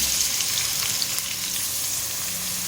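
Three medium onions, sliced, sizzle in hot oil in a continuous, fairly loud hiss with no talking.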